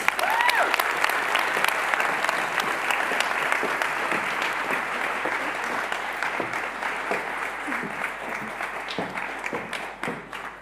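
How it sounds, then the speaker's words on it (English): Warm audience applause for speaker Sahar Shirzad at the Hague Talks on peace and justice, a steady wash of many hands clapping that slowly tapers off over about ten seconds. "Please give her a warm applause"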